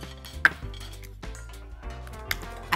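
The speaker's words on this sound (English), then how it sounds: "Stir it up." Pap (ogi) with sugar stirred in a pot, a spoon scraping and clinking against the sides in a few irregular knocks and rubs, close and moderately loud, with no voice over it.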